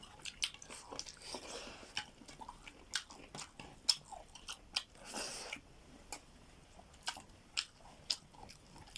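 Chewy local fish eaten Naga-style gives wet, crunchy bites and soft mastication sounds repeating irregularly at close range, with no talking.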